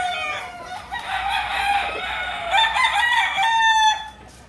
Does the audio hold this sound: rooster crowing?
yes